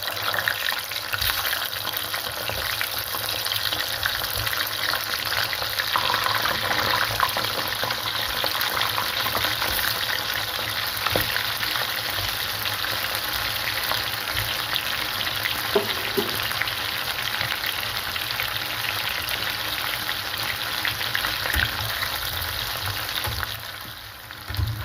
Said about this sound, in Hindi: एबे आम डबल फ्राए करवा